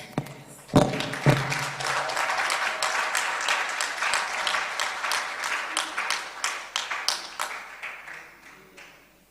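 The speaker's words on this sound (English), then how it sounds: "We should not stop clapping." Audience applause at a moot court final competition awards ceremony as winners are called forward, opening with a few loud thuds, then rhythmic, sharp clapping that gradually thins and fades toward the end.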